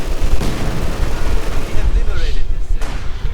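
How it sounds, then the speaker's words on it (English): Battle noise from a Company of Heroes 2 match: continuous rattling gunfire and mortar rounds thudding in, loud and dense throughout, with a brief whistling sweep near the end. "Rifle grenade against the shed with the combat engineers in. Mortar rounds falling down."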